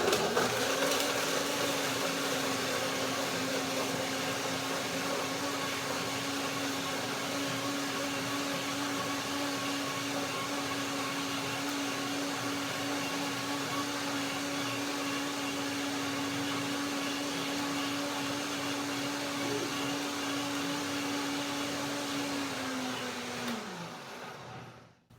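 A kitchen blender whirs steadily, blending kiwi, pears, walnuts, figs and banana into a thick cream with water. The loud, even motor drone runs alone for about 23 seconds, then winds down and stops.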